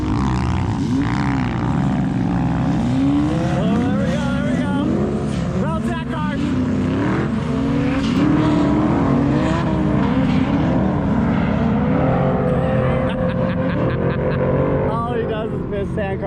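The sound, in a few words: sand drag race cars launching off the line at Glamis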